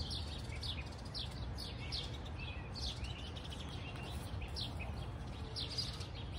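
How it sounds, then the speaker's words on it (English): Birds chirp in repeated short calls throughout, fairly faint above a steady low background rumble, with no talking. "I hear birds all day long."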